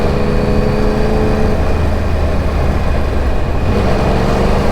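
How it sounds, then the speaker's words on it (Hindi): A Yamaha R1 Crossplane 1000cc inline-four motorcycle engine runs with a steady, loud, rough drone and no clear rev peaks. "इसका इंजन रिफाइंड नहीं है जैसे दूसरी यामाहा बाइक्स का होता है।"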